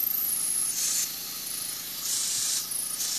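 Compressor-driven airbrush spraying paint onto a model flatcar, close bursts of soft high hiss switching on and off in short pulses, quiet overall.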